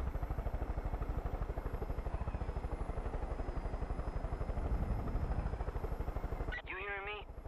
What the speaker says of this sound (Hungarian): Na, itt is a helikopter.